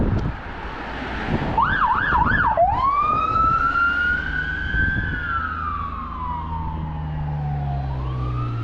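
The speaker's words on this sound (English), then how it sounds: "Somebody needs an ambulance." An ambulance siren wails nearby on a street in Lewiston, Maine, starting with a quick warbling yelp and then sliding into a long rising and falling tone, loud and unbroken.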